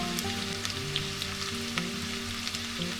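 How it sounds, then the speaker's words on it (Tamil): Chopped onions and curry leaves sautéing in a pan for pepper chicken masala give off a steady, close sizzle with light crackles, accompanied by a faint sustained tonal hum in the background. "கொஞ்சமாக கருவேப்பிலை இது கூட போட்டு இந்த வெங்காயம் கொஞ்சம் பொன்னிறமாக வர அளவுக்கு இதை நல்லா வதக்கி எடுத்துக்கலாம்"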